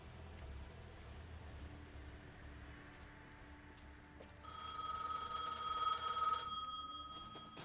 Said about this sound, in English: Answer the phone call.